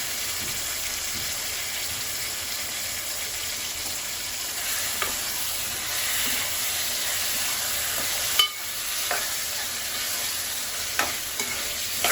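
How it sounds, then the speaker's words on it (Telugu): Mutton fries in hot oil with a steady, close sizzle, while occasional scrapes and knocks of stirring rise above the hiss. "మటన్ వేసుకొని కలుపుకొని ఇది కూడా ఒక ఐదు నిమిషాలు నూనెలో మగ్గనివ్వాలి"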